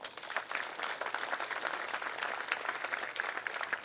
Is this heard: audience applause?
yes